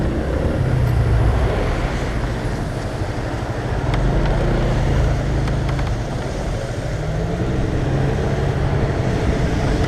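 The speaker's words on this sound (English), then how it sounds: "A lot of traffic out for a Sunday morning." Sunday-morning street traffic rumbles along Waterloo Road in London, a steady broadband wash of passing engines and tyres, continuous and moderately close with no talk.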